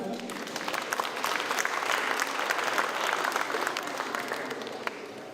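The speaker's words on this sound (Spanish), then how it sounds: "le pedimos su participación a Cecilio Solís Librado de la Red de Turismo Indígena Alternativa de Puebla. Muchas gracias. Un aplauso." Warm audience applause greets a speaker from an indigenous tourism network on a panel about indigenous peoples in large cities, a full, sustained round of clapping from a seated crowd that fills the room for several seconds.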